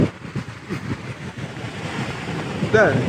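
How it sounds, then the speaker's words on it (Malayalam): Ocean waves and wind at the shore in Kanyakumari form a steady, broad roar throughout, with a voice briefly audible near the end. "നല്ല കാറ്റ് നല്ല രസമാണ് ഒരു സൈഡിലിങ്ങനെ തിരമാലയുടെ ശബ്ദം"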